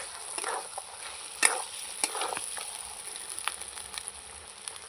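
Mutton sautés in a pot just after the lid comes off, giving a soft, fairly faint sizzle with a few sharp clicks and scrapes, and no one talking.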